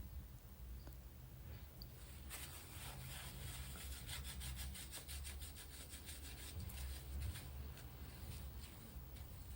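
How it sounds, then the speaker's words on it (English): A paper towel is rubbed back and forth across a gel printing plate while it is cleaned, making a steady, close, scratchy wiping that begins after a quiet start and continues rhythmically to the end. "I'm using a paper towel because that's what I've got to hand. And it does really clean the gel plate well."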